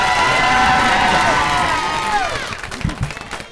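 A comedy club audience cheering and whooping loudly, a dense wall of shouts that fades after a couple of seconds into scattered clapping and voices.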